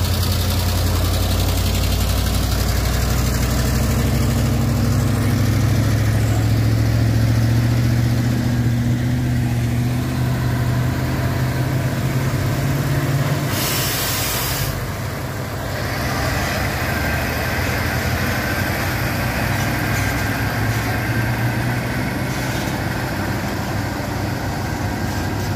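A CPO tanker truck climbing a hill gives off a loud, low diesel drone that shifts pitch as it labours and revs, with a brief sharp burst of noise midway through.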